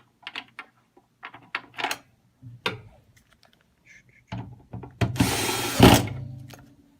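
Small screws being driven back into a CAS SW series scale casing, a run of short clicks and ratcheting tool bursts, then a louder sustained whirring stretch near the end.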